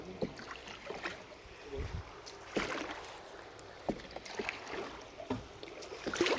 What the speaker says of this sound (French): Voilà, regardez-le, son bateau fonctionne.